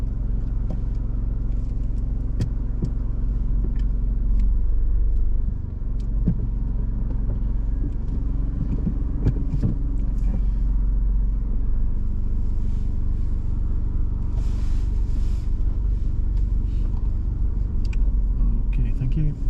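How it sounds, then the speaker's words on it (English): A learner driver's car reversing slowly along a curb in Swindon, low steady engine rumble heard from inside the cabin with occasional clicks, while people talk over it. "like to reverse back 2 car lengths, keep close proximity to the curb on the right hand side"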